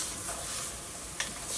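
A spoon stirs chicken tinola soup with pepper in a pot, giving a soft, faint scraping and light sizzle, with one small clink near the end and no voices.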